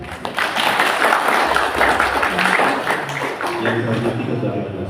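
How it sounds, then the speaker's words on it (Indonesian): Audience applause at a chess tournament event, a few seconds of clapping mixed with a crowd murmur and a voice speaking over it, fairly loud and close. "Aplaus untuk beliau."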